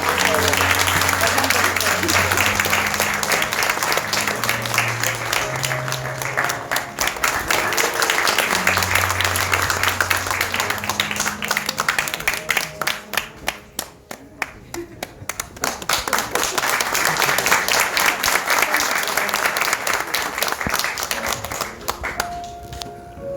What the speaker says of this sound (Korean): 그럼 박수 한 번 더 부탁드리겠습니다.